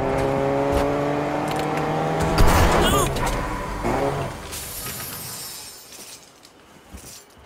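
A car in the Fortnite video game played on an iPad Pro, a steady engine hum with a crash or shattering burst midway, then fading toward quiet, while a player talks over it.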